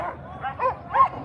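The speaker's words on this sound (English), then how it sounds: "There's essentially three teams of Alaska Huskies here." Alaskan husky sled dogs bark and yip at the start of a Fur Rondy open world championship sled dog race, three short barks rising in loudness over a noisy crowd background.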